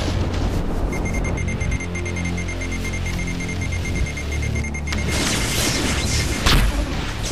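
Plasma rifle in the video game Doom firing, with repeated electronic weapon bursts over rumbling low-end game audio, followed by a louder blast near the end.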